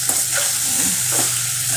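Semiya is stirred in a pan on the stove, giving soft repeated scraping strokes over a gentle, steady sizzle, close up and with no talking.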